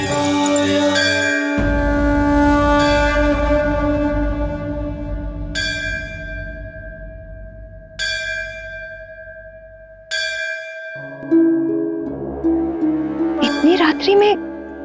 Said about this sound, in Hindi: और इतनी तेज ध्वनि में घंटी बजा रहा है